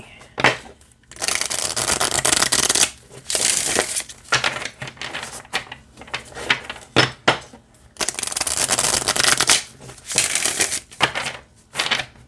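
Tarot cards being bridge-shuffled, close and crisp: bursts of rapid riffling clatter separated by short pauses and softer handling sounds.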